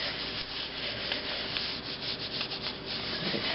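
Continuous close-up rubbing as a hand sweeps over paper pressed onto an inked lino block, a steady dry scratchy swish with slight rhythmic pulses and no talking.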